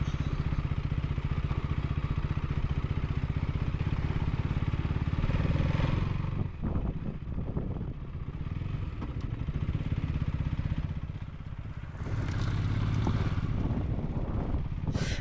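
A motorcycle rides along a tea plantation road, its engine a steady close drone mixed with wind buffeting the microphone, easing off briefly midway before picking back up, with no talking.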